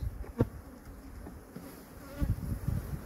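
Honey bees buzz steadily around an open hive with a honey super during an inspection, a close, continuous drone with a few louder passes near the start and end.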